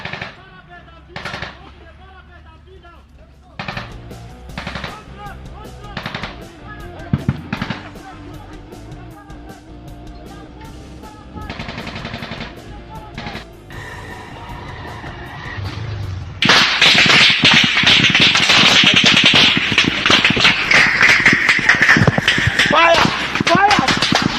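Sustained automatic gunfire from Nigerian soldiers battling Boko Haram in Sokoto, starting as scattered sharp bursts between shouted commands, then swelling after the midpoint into a dense, loud, continuous volley with men yelling over it.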